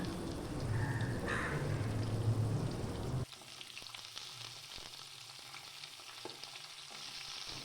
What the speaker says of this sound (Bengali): এবার আলুর সাথে এই পেঁপেগুলোকেও ভেজে নেব